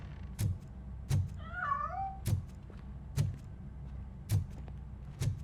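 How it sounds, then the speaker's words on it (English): A cat gives one wavering meow in Robocop: Rogue City, heard under a slow, regular series of heavy thumping footsteps, with no talk. "That cat must be hiding inside."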